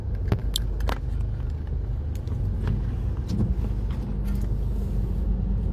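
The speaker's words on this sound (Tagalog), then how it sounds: "Pakita ko sa inyo yung traffic." Road traffic on EDSA, Manila, with a low, steady rumble of vehicles heard from inside a car and a few faint clicks and knocks on top. No one speaks.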